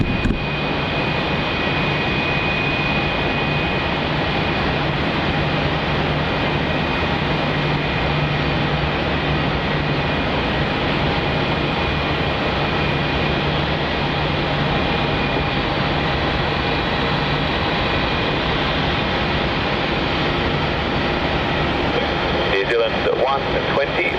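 Airliners at Melbourne Airport produce a continuous, loud engine roar and broad rumble that holds steady throughout, with voices talking over it.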